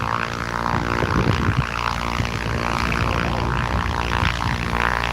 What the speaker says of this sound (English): We have got another plane there landing.